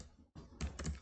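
Keystrokes on a computer keyboard while writing in software, a few soft close clicks after a brief silent gap, faint and without speech.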